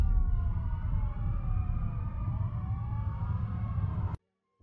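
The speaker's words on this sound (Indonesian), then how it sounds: "Ambulans akan segera datang." An ambulance siren wails loudly and continuously, its rising and falling tones overlapping for about four seconds before cutting off abruptly into silence.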